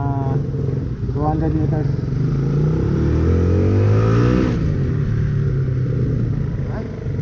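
A carbureted Honda CBR 150 motorcycle engine revs and pulls while being ridden after an oil change, a loud close buzzing drone that climbs and falls in pitch under a voice speaking briefly.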